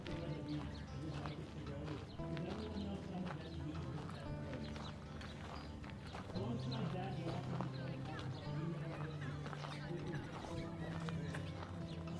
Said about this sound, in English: Wow, there's a lot of horses.